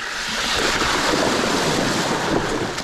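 A bike rolling through a creek crossing on a gravel or hardtail ride, a steady loud rush of splashing water and wind noise with no voices.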